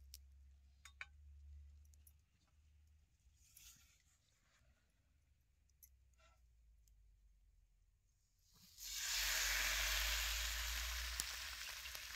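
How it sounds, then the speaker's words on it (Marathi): Oil poured onto a hot tava under a methi dhapati bursts into a loud, steady sizzle after a quiet stretch of faint clinks and handling. "आता ह्या तव्यात असं जरा तेल टाकायचं."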